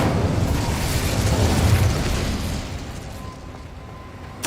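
An Incendio fire spell erupts in Hogwarts Legacy, a dense whooshing blast of flame that swells to a peak and then slowly tapers off, loud and near, ending with a short sharp click.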